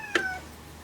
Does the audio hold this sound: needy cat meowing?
yes